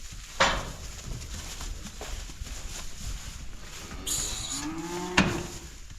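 A newborn bull calf, a good-sized one, moos inside a farm barn, a single drawn-out call partway through, heard close over steady barn rumble and a few clanks.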